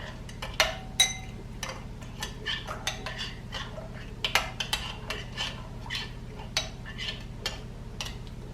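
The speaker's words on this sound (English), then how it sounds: "Just whisk it a little" A yeast mixture whisked in a bowl for naan dough, quick light clinks and taps of the whisk against the bowl in an uneven rhythm, close and fairly quiet over a low hum.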